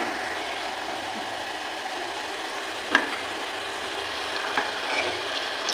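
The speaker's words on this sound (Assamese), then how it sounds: "ইফালে আমাৰ লালমোহন ভাজি আছোঁ মই" Lalmohan sweets fry gently in refined oil over a low flame, a soft, even sizzle with an occasional faint tap of a utensil, close and otherwise quiet.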